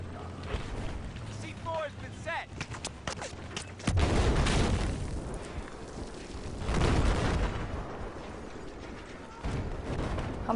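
Loud in-game C4 explosions in Battlefield 4, with a heavy blast near four seconds and another around seven, over a dense rumble of gunfire and battlefield mechanisms; a voice speaks briefly early on.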